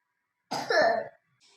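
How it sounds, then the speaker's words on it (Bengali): A single harsh cough, close and fairly loud, a short throaty burst followed by silence. "কাশি হচ্ছে"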